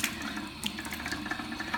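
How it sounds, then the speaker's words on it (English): Warm water is splashed onto a face to rinse off a mask, giving a short, steady wash of close running and splashing water lasting under two seconds. "And again, you can splash your face like I'm doing."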